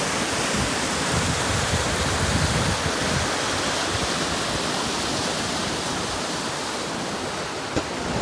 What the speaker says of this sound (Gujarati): પાછળ તો ભાઈ જોરદાર ધોધ વહી રહ્યો છે. એકદમ પાણી ભરપૂર પ્રમાણમાં બધું વહી રહ્યું છે.